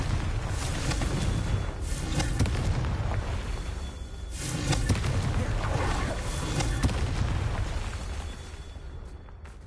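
A Confringo blasting spell goes off in Hogwarts Legacy, loud booming bursts with rumbling echoes over a dense, noisy battle bed, the blasts repeating several times across the stretch.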